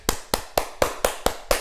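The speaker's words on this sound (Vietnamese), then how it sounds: "Vỗ tay quý vị." Seven sharp, evenly spaced bursts of clapping from an audience at a Vietnamese music performance, each a crisp loud slap repeating steadily about four times a second, with no talking over them.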